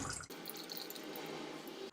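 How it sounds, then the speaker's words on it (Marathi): Whey water steadily falls from curd tied up in a cloth, a soft continuous trickle and patter heard up close and quiet, unbroken for the whole stretch after a brief handling noise at the start. "तुम्ही बघू शकता ह्यातलं पाणी हे पडतंय खाली"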